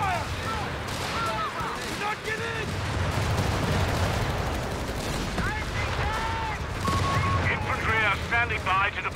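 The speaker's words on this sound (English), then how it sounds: "Enemy riflemen have engaged! Return fire!" Rifle gunfire and explosions in the real-time strategy video game Company of Heroes 3, dense overlapping shots and distant blasts under constant battle noise, with unit voice lines throughout.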